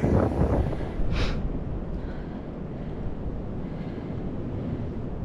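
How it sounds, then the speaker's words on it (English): Strong wind buffeting the microphone on the Appalachian Trail between Woody Gap and Bull Gap, a steady loud roar that rumbles throughout with no talking. "this wind is no joke"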